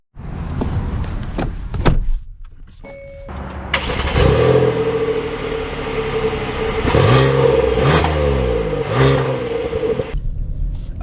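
A 2023 Hyundai Palisade SUV sets off: a door thud and engine start, then the engine revs and pulls away, a steady close drone rising and falling in pitch with no talking.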